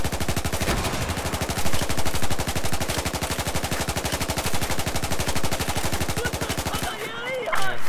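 Rapid automatic frag-round gunfire in Battlefield 4, a dense, loud burst of shots in steady rhythm that stops abruptly near the end, leaving a brief quieter tail.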